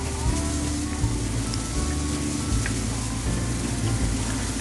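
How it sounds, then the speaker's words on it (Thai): Meat and curry paste stir-fry in hot oil in a pan for Thai nam prik ong, giving a steady, moderately loud sizzle with no talk. "เอาตัว เนื้อพริกแกงเนี่ย มาผัดให้เนื้อเนื้อสัตว์สุกนะครับ"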